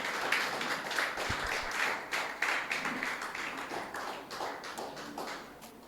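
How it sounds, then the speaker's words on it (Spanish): A church congregation claps in praise during a worship service, a fairly quiet patter of individual claps with uneven rhythm that gradually tapers off. "Dale un fuerte aplauso al Señor, hermano"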